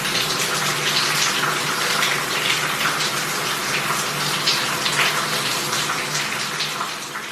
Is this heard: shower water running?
yes